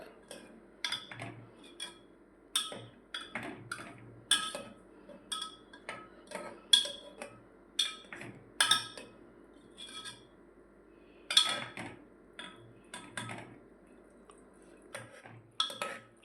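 A spoon stirs ivy gourd (tindora) curry in a pressure cooker pot, giving light metallic clinks and scrapes in an irregular rhythm of about fifteen taps, close and clear over a quiet background.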